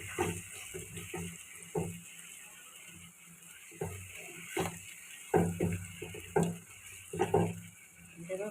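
Pangas fish being stir-fried in a spice paste in a pan, with a soft sizzle and a series of repeated scraping stirs. The strokes come in uneven bursts and are loudest toward the end.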